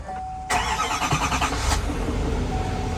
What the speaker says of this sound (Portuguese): Olha o V8 diesel.